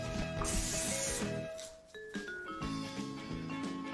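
A hissing aerosol burst of cooking spray onto a pan, a long burst followed by shorter bursts, close by, with light clinks and rattles of the pan underneath.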